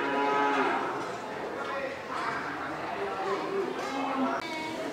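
Cattle mooing at an Indonesian cattle market, including black-and-white Australian dairy-type cattle, several drawn-out lowing calls nearby, with people talking in the background.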